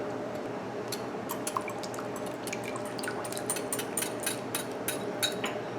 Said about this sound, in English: I'm going to pour my sauce into the bowl here.